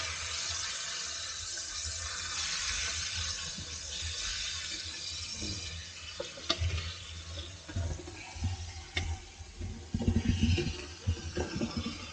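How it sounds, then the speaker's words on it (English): Pork sizzles in a hot pan with a steady hiss, then crackles and spits more unevenly toward the end, with occasional utensil clatter. "I'm frying the pork."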